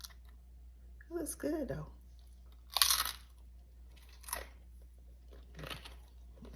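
Someone chews fresh homemade guacamole, with a few crisp, crunchy bites spaced across a few seconds between brief spoken remarks.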